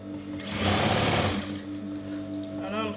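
A sewing machine runs in one loud burst, stitching the side seam of a house dress, then stops, leaving a steady background hum with a voice speaking faintly near the end.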